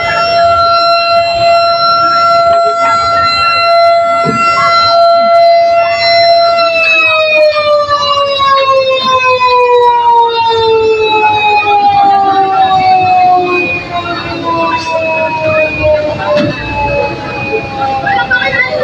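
A fire truck siren wails loud and close as the engine arrives at a house fire in San Antonio, Los Baños, Laguna, its steady tone slowly falling in pitch while people talk.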